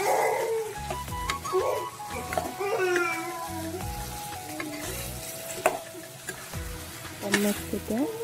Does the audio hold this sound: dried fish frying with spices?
yes